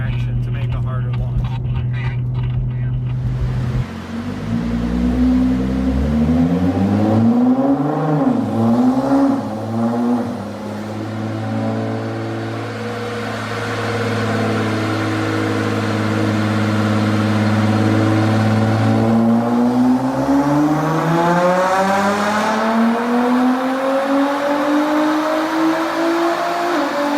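A COBB-tuned Nissan GT-R idles, then holds revs under rolling boost before launching, its engine note climbing and falling through sustained sweeps, loud and close, with someone talking over it.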